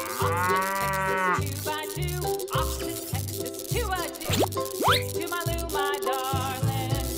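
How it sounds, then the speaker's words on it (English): A cow gives a long, clear moo near the start, followed by cartoonish boings and plops over an upbeat children's tune with a steady thumping beat. "Cow."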